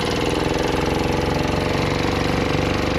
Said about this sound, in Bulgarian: Даваме мръсна газ на мотора